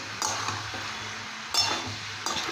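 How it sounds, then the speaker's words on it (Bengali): Fried prawns are stirred into a vegetable curry in a pan, with a spoon scraping and clinking against the metal in three distinct strokes, close up over a soft sizzle. "সমস্ত তরকারির সাথে চিংড়ি মাছটাকে খুব ভালো করে মিশিয়ে নিতে হবে"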